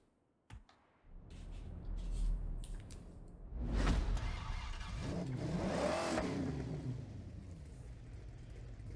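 A lightened Nissan Figaro in the Forza Horizon racing game, its engine revving and accelerating toward a 7,000 RPM redline, with sharp clicks at the start and a steady rising drone that swells and holds.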